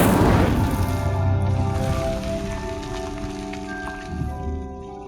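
An Incendio fire spell cast in the Hogwarts Legacy video game, a loud whooshing burst at the start that fades into a rumbling crackle over a steady tonal music bed.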